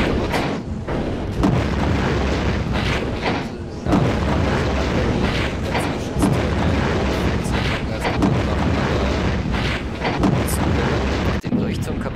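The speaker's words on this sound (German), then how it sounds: "Den Leuchtturm kaputt schießen kann und ja, die Insel geht in die Luft." A lighthouse shot apart and an island blowing up in Project Nomads, heavy rumbling booms and explosions rolling on repeatedly at close range, with someone speaking over the din.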